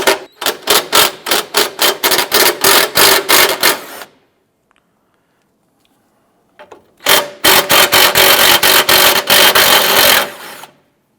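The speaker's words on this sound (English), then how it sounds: "we're going to use our 10mm socket to loosen and remove the headlight bolts" Ratchet with a 10mm socket loosening headlight bolts on a 2008-2013 Nissan Rogue: two bursts of rapid, even clicking, close and loud, separated by a few seconds of near silence.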